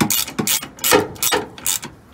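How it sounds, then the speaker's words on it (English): A 21 mm socket on a ratchet tightens a bolt on a Rough Country side step, giving close, rapid bursts of ratcheting clicks with short pauses between strokes. "It is a 21, I believe. Yeah, 21. And just get this tightened down now."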